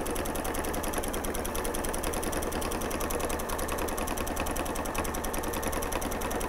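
A sewing machine stitches a lip-shaped throw pillow, its needle hammering in a fast, steady, unbroken rhythm close by.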